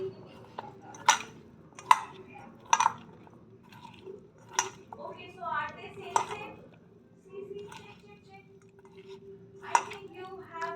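Potato pakora batter of gram flour and water is mixed by hand in a bowl, giving soft wet squishes and scattered sharp clinks of utensil against the bowl, close up and fairly quiet, alone.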